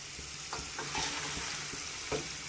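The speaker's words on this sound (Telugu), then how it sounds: "బ్రౌన్ కలర్ వచ్చిన వరకు వేపుకోవాలండి ఎర్రడాలుగా ముక్కలు" Pieces of bitter gourd fry in hot oil in a home kitchen until browned, with a quiet, steady sizzle broken by several soft scraping stirs of a spatula. No one speaks.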